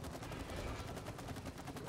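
Rapid gunfire from a shooter weapon in the It Takes Two video game, aimed at the wasp queen during a boss fight, a dense continuous burst of shots rattling evenly for about two seconds at moderate level.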